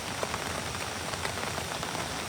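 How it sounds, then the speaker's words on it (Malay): Heavy rain pouring down in a dense, steady hiss of drops striking surfaces, constant and close, with no voices. "Hujan ni makin lebat lah tuan-tuan."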